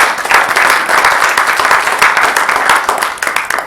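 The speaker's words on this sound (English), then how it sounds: "let's please give her a round of applause" Loud, sustained applause from an audience at a school volunteer award ceremony, a dense steady rattle of many hands clapping with no break for nearly four seconds.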